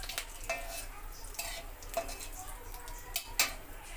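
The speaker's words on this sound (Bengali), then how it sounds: "এবার মাংসটা ছেড়ে দেবো, একটু নেড়ে নিতে হবে।" Stirring and scraping in a pan as mutton fries with spices, a soft steady sizzle beneath repeated utensil strokes and light clinks, close and fairly quiet.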